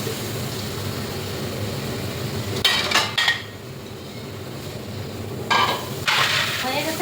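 Mango and tomato frying in oil for a mashed bharta give a steady, close sizzle throughout, broken by a few sharp metallic clanks of a utensil against the pan.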